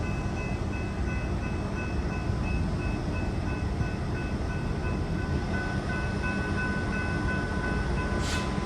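Train rumbling past the Grapevine Main Street Station railroad crossing in Texas, a steady, loud, continuous roar of wheels and cars with a faint high tone near the end.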